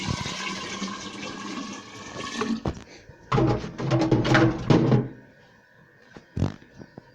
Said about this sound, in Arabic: هنحط ميه برضه